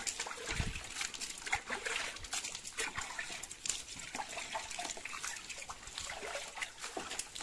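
Water trickling and splashing as muddy feet are washed inside a cave, a continuous close, bright wash of running water with occasional splatters, alone without talk.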